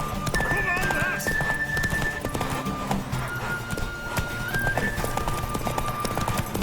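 Hooves clatter in a fast, steady gallop while a horse whinnies in The Witcher 3: Wild Hunt, with music and voices layered over the hoofbeats.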